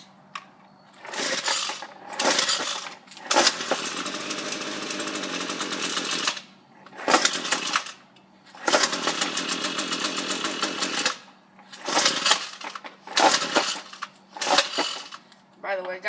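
A Ryobi weed eater's small two-stroke engine is cold-started with the choke down, sputtering through repeated revving bursts of varying length separated by short pauses, loud and close, with someone talking in between.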